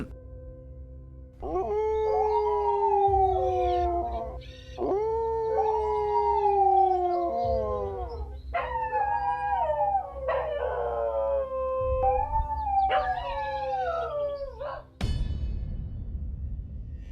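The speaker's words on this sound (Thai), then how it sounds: "มันได้เป็นเสียงหมาหอน" Several dogs howl in long, rising and falling wails that overlap and trail off, fairly close, followed by a sudden loud burst at the end.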